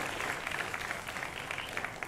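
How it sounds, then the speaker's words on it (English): Applause at a school conference closing plenary, a steady broadband wash of many hands clapping with no break or build for the full stretch, fairly quiet in the mix. "Give a round of applause."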